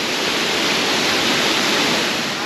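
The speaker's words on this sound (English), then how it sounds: "quite a spectacular waterfall all the same" The waterfall at Hareshaw Linn in Northumberland roars as a steady, dense wash of falling water, loud and close, filling the air with unbroken broadband rush and no voices.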